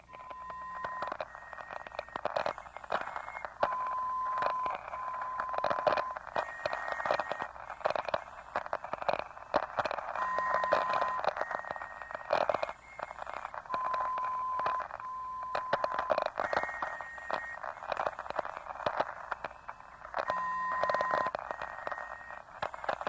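Faint, steady high-pitched beeps from a VLF radio navigation network, short tones stepping in a repeating cycle over a hissing, crackling radio background.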